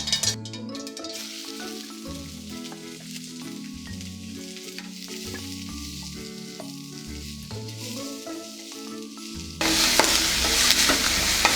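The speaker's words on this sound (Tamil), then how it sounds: "வெங்காயம் நல்லா வதங்கட்டுங்க. கலர் சேஞ்ச் ஆகணும்." Steady sizzling of onions and curry leaves sautéing in hot oil, with occasional stirring, while light music plays throughout; the sizzle grows brighter and louder near the end.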